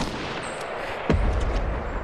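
A single heavy gunshot in Fortnite booms out midway, following a quiet stretch, and its low rumble trails off afterward.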